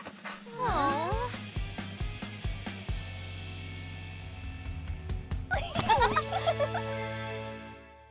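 A cartoon dog in a kids' animated show whimpers, yips and pants in quick bursts, with a jingling tag and a short run of excited barks near the end, heard up close and alone.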